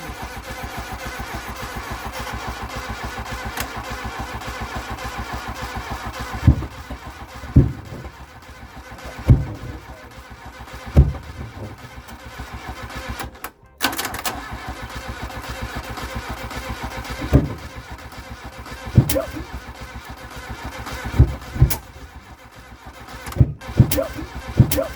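An old Mk1 Volkswagen Golf, pulled from a paddock, cranks and tries to start, a steady churning drone broken by sharp irregular coughs and pops that come close and loud over about twenty-five seconds.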